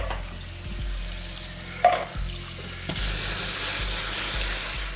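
Tap water running steadily over rinsed canned beans at a camp kitchen, a constant close splashing wash with a brief clatter partway through.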